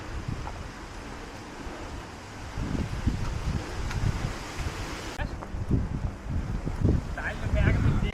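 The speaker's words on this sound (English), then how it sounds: "It's also getting a lot more windy right now." Gusty wind buffeting the microphone near the fortress in Prizren, Kosovo, rumbling and rising in strength over several seconds, with a brief muffled voice at the end.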